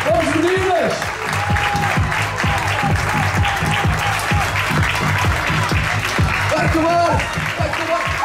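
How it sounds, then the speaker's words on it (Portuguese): A stadium crowd claps loudly and steadily through a women's 400m race at an athletics meeting in Maia, with rhythmic applause and an announcer's voice over it. "Vamos lá, essas palmas!"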